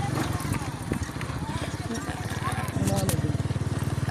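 Loaded donkeys walking with goods tied on their backs, their hooves clip-clopping in a steady, fairly close rhythm, with a voice talking over the footfalls and outdoor background noise.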